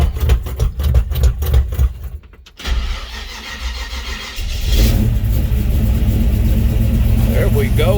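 A 1941 Chevy pickup cold-starting: loud cranking pulses, a brief pause, then the engine catches and settles into a steady, loud idle close by, with no talk.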